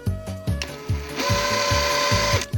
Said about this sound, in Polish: Ślizga się wiertło.